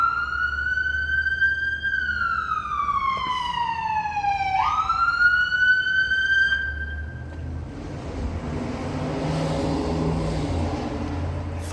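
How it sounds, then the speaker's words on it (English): Emergency vehicle sirens in the early morning, a loud wailing tone that sweeps up and down and then fades, leaving a low traffic rumble. "Sirens."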